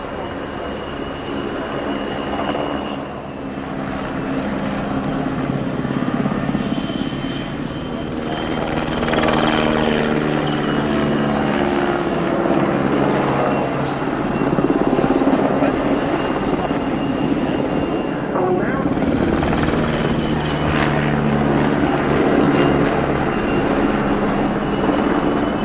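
A helicopter flying its display at the RIAT 2025 airshow gives a loud, steady rotor and engine drone that swells and fades slightly throughout, with a commentator's voice running over it.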